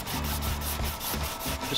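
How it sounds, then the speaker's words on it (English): A wooden Jaguar XJ6 dashboard is hand-sanded with 1500 grit paper, giving close, steady back-and-forth rubbing strokes in an even rhythm. "We're sanding it down, sanding it down. It's 1500 grit"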